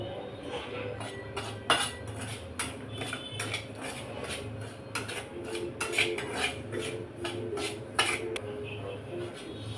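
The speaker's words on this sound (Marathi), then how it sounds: "आता याच्यामध्ये आपण रवा भाजून घेऊया" Semolina roasts in a hot wok with ghee, and a metal spoon scrapes and clinks against the pan in an irregular rhythm over a low background hum.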